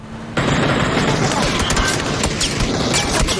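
Gunfire in PUBG on the Vikendi map starts abruptly after a short quiet moment. Loud, dense bursts of rapid automatic shots follow one another, with faint voices underneath.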